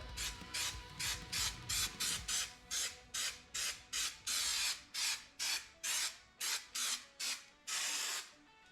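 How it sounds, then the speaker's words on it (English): Repeated short bursts of aerosol spray paint, about eighteen hisses in a steady rhythm, close and fairly loud with brief gaps between. "You want to spray both sides of your piece."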